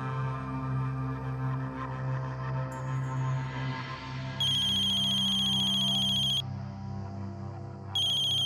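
A phone ringtone in a Hindi TV serial sounds in repeated electronic bursts over a low, steady musical bed, with short pauses between rings.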